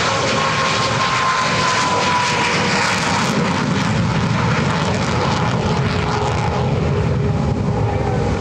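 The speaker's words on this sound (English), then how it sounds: "The jets that are taking off now are former allies of World War II." World War II warbird aircraft take off at EAA AirVenture 2024, a loud, sustained engine roar that fills the whole stretch at close range, with no talk over it.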